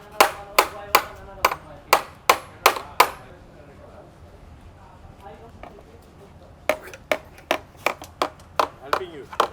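A hammer and screwdriver strike a BMW gearbox filter cover in a run of sharp metallic taps, a pause with faint rustling, then another quick rhythmic series of knocks.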